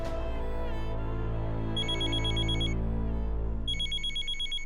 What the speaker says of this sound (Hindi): अनु का फोन है